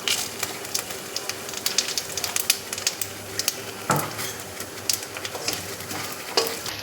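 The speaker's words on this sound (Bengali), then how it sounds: "কিছুটা বাটার দিয়েছি তেলের সাথে, দিয়ে এই ফোড়নটা যোগ করছি।" Whole spices, dried red chillies, bay leaf and garam masala fry in butter and oil in a pan, giving a steady close sizzle broken by a few stirring scrapes and clinks.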